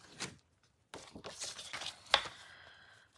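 Paper being cut by hand during a card-making session, giving a few brief crisp snips and a sharp slice with short gaps between them, close up and fairly quiet, with no talk.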